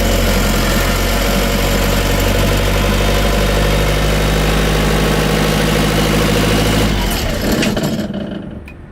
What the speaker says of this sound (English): So we've just started up the reefer unit,